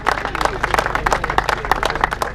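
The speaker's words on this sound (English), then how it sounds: "Round of applause then for the youth men category then." Applause from a crowd at a downhill mountain bike series prize-giving in the woods, honouring the youth men category winners; scattered, uneven clapping close by, with some chatter mixed in.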